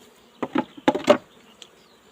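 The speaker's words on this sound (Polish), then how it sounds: "Pszczoła spokojna." Honeybees buzzing close by in an opened hive during a post-winter inspection, with a few bursts of louder droning over a soft, steady hum.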